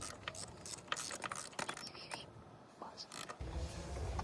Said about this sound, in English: We're gonna just tighten up your spark plugs.